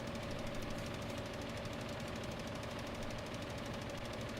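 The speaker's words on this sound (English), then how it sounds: "All these tractors working in tandem" Several tractor engines at work in the farming game Farming Simulator 15, a steady, low droning hum with a faint rhythmic knock, moderately quiet and unbroken, with no talking.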